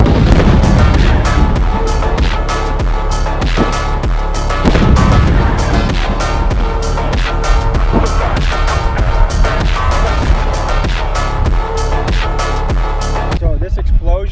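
Loud, continuous barrage of booming blasts and sharp cracks, like rapid fireworks explosions, going on without pause before cutting off near the end.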